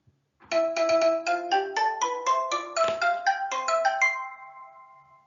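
A telephone rings with a rapid electronic melodic ringtone, loud and close, running for about four seconds before trailing off into silence.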